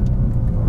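BMW M2 G87 downshifting, a dense loud engine-and-exhaust rumble filling a brief fraction of a second, close and continuous with no talk.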